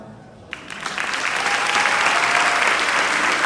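Applause from the audience at a Beautillion ceremony rises after a quiet start, swelling into a loud, sustained wash of clapping from a large crowd, with faint cheers mixed in.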